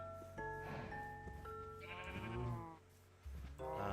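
Sheep bleating on a farm in the Minecraft video game, several wavering bleats in quick succession over a steady background, clear and fairly close, with no talk.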